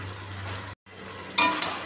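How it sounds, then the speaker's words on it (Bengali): Chicken curry with potatoes being sautéed in a pan, a soft steady sizzle broken by a brief pause, then sharper clinks of a spoon stirring against the pan near the end. "এবার আলুটা দিয়ে কষাচ্ছি"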